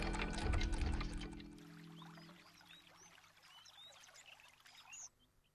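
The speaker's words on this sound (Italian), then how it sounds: "L'acqua ha preso a scorrere" Water pours and splashes loudly for a moment, then thins into a softer steady trickle with faint birdsong over it before cutting off.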